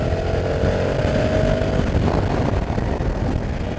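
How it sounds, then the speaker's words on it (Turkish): A Honda Africa Twin Adventure Sports DCT motorcycle engine is revved up with the throttle, producing a loud, close, rising engine drone with rumbling low end for a few seconds. "Biraz gaz açalım bak."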